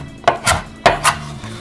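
Lemongrass stalks being snapped apart by hand in a kitchen: two sharp cracking breaks, each followed quickly by a second softer snap, close and crisp with no talk.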